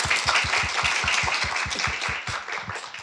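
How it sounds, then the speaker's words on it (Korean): Audience clapping at a live public broadcast recording at an arts center, a dense burst of hand claps close and steady, fading slightly toward the end. "이 만남을 우리 박수로 축하하면서 시작할까요?"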